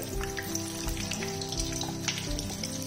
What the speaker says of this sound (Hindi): दरमियानी फ्लेम पे हम इसको करेंगे फ्राई